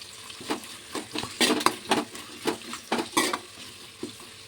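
Chopped onions and curry leaves stirred in hot oil in a pan for raw fish curry, a rhythmic series of scraping spoon strokes over a steady sizzle, close and fairly loud, no talking.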